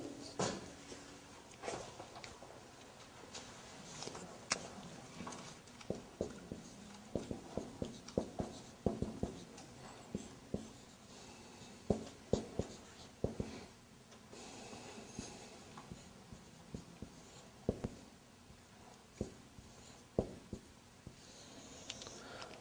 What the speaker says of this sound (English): I'm going to write down.